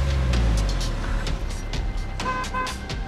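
A car engine in the game Rust rumbles low and steady, fading a little, with some clicks and scrapes over it.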